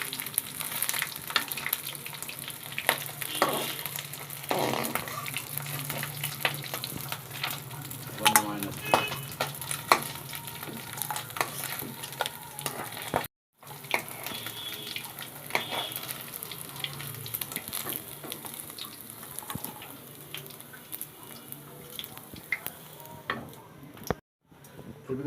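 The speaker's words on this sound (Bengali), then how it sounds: "মাথাগুলো এইভাবে ভেজে নেবেন, এরকম কড়া করে ভেজে নেবেন।" Fish heads fry crisply in hot oil, giving a continuous crackling sizzle with spatter and occasional stirring clinks, close and fairly quiet, with two short dropouts into silence.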